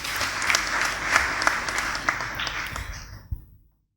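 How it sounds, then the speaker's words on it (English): A church congregation breaks into brief, dense applause that holds steady for about three seconds before cutting off into silence. "Give her a round of applause."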